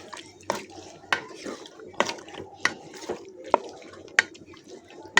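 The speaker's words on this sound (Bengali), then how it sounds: "এখন এটাকে নেড়ে দেবো।" A spoon scrapes and stirs chicken pieces coated in spices inside a cooking pot, sharp rhythmic clanks about twice a second over a soft wet shuffling, close by.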